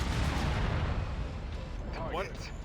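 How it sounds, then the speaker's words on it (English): Incoming missile strike in a mech combat video game, a dense low rumbling barrage of blasts and impacts filling the clip at steady loudness, with a brief warbling electronic tone near the end. "Incoming missile."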